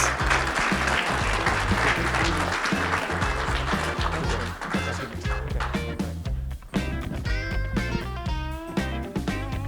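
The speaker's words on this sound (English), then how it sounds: "Please, a round of applause for Steve Johnson, please" Applause from a business audience at a Scottsdale founders forum, loud full clapping from many hands, with a heavy musical beat underneath and chimes rising in the second half.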